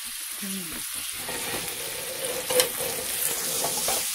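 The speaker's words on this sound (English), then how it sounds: "Going to stir that in." Vegetables for lumpia filling frying in a pan: a continuous soft sizzle with gentle stirring and a brief clink of a utensil, and a voice speaks briefly near the start.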